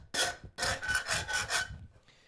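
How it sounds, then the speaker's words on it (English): A 14-inch bastard cut half round file skims a forged metal chest handle in about five rhythmic rasping strokes, close and bright, each a short scraping pass with brief pauses between. "grab my trusty 14-inch bastard cut half round file and literally just give this a skim"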